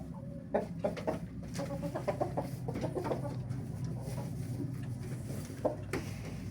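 Adler hens cluck and murmur in a steady, busy flock, with a few sharper squawks standing out over a low rumbling background.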